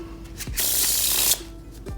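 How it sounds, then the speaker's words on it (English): A deck of playing cards is riffle-shuffled once during a card trick, a dense riffling burst of about a second between softer handling sounds, close and clear with no talking. "I think it will only take one shuffle to do this"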